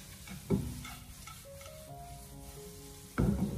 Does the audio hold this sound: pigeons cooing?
no